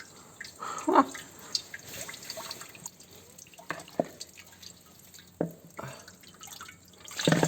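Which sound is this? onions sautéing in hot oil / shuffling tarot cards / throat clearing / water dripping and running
water dripping and running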